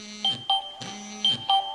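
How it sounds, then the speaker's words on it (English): A cell phone rings to announce a new voicemail, repeated electronic tones cycling in a steady pattern, fairly loud and close, with no talking. "That's my cell phone ringing that I've got a new voicemail."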